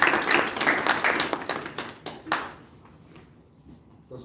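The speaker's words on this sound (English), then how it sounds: "Please welcome Toastmaster Sunny with a huge round of applause" Audience applause at a Toastmasters club meeting in Gurgaon, a burst of many hands clapping that thins into a few scattered, separate claps and fades out after a couple of seconds.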